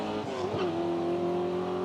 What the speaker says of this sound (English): Dwyer out there trying to get those gears in